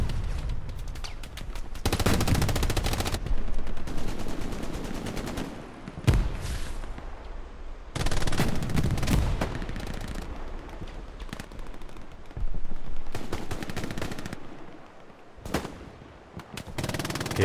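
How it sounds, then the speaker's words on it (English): Dual MG42 machine guns in a World War II D-Day online shooter rattle off long, loud sustained bursts, pausing briefly between strings of rapid fire, with no talk over them. "Dual MG42's going off."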